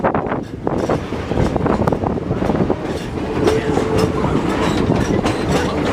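The Verde Canyon scenic train in Arizona rolls around a bend, its wheels clattering steadily on the rails close by, with wind buffeting the microphone.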